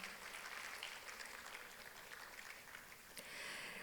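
Conference audience at an island ecosystem forum in Yeosu applauding, a quiet, continuous patter of clapping across the whole clip with a slight swell near the end.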